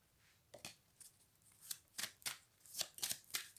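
Tarot cards handled at a reading, a series of quick dry card snaps and slides from the top of the deck, close and fairly faint, in uneven bursts with no voice.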